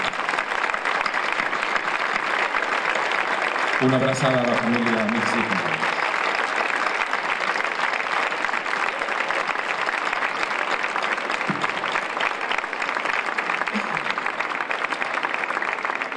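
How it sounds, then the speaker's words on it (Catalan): Sustained applause in tribute to Joan Baró, a recently deceased cyclist, during the opening proclamation of a Festa Major in 2015; steady crowd clapping fills the whole stretch while someone briefly speaks over it. "És de justícia que tots li dediquem un fort aplaudiment"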